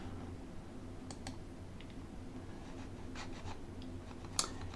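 A computer mouse clicks a handful of times, sharp and isolated, while someone navigates the menus of a GISsurfer web map, set against a steady low hum of room noise.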